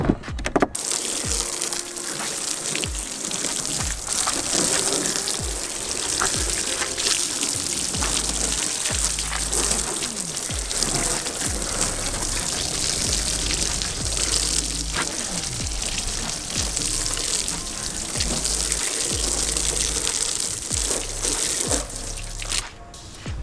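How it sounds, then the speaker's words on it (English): Water gushes and splashes continuously onto a Kemimoto ATV storage cargo box, loud and close, with a steady rushing spray throughout. "let's drench it in some water"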